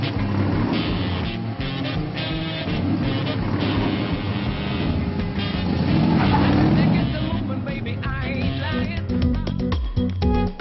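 Cars driving, a continuous loud road rumble and engine noise with passing vehicles, with voices faintly underneath.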